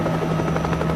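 A news helicopter flies over the wreckage of a seaplane crash off Miami Beach, its steady rotor throb and engine buzz close and continuous, with no voices.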